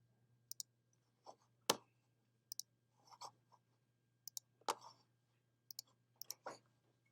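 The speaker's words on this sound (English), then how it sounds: "if I double click here on this type icon, it'll select it for me" A computer mouse being clicked on a type icon while editing an image: several sharp, quiet clicks come singly and in quick pairs over a faint steady hum, with no talking.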